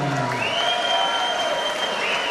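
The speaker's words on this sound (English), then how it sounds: "How about a big round of applause for a courageous Tassie Devil, Mathew Taser Freshney" Boxing crowd applauding after a knockout win, a dense sustained roar of clapping with cheering, and a whistle-like tone rising and holding above it.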